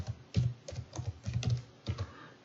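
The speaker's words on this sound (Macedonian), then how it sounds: "За овластено лице прв пат на овој компјутер, еве ќе пишувам Сашко Јосифовски" Keys on a computer keyboard tapped in short quick bursts while a name is typed, close and fairly quiet, with brief pauses between clusters.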